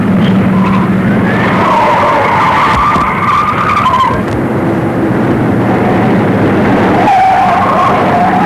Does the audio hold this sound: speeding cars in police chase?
yes